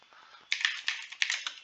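Quick bursts of keystrokes on a computer keyboard at a terminal, faint clicking at first then a louder cluster of taps at an uneven rhythm, close and alone.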